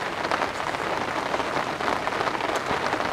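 Heavy, steady rain drums on a camping tent during a solo camping trip in a nonstop rainstorm and cold weather, a dense continuous patter close by with no voices.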